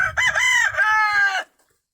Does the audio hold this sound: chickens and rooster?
yes